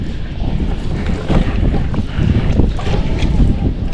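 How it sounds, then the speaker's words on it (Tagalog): Strong wind roars and buffets steadily, with heavy low rumbling gusts that rise and fall throughout, sounding close and loud. "Lakas ang hangin."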